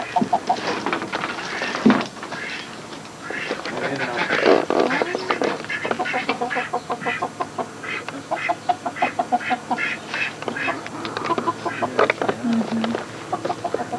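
A duck quacks and clucks repeatedly at close range while people talk over it, the calls coming in short irregular bursts.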